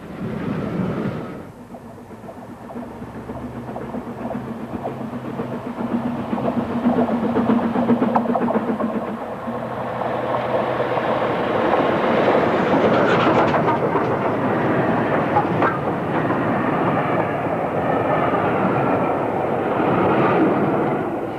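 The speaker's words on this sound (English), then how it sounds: "This is a Newport to Hereford train, double-headed with Clun Castle and Hagley Hall." A double-headed steam train hauled by the locomotives Clun Castle and Hagley Hall rumbles past at close range, a steady loud roar with rhythmic clatter building and holding for about twenty seconds.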